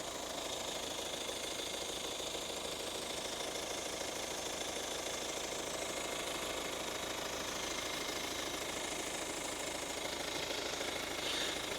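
A used car's engine running steadily during an inspection, a continuous close mechanical clatter and hum holding at an even level throughout with no talk over it.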